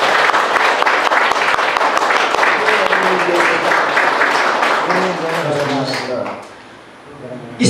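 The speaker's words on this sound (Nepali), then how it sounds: "एकचोटि जोरदार ताली" An audience at a youth event applauds loudly and steadily for several seconds before the clapping fades, and a voice starts speaking as it ends.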